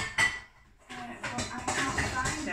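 Pans clatter and knock together as someone rummages through a pantry cupboard, with metallic clanks and scrapes close by, partly under a person talking.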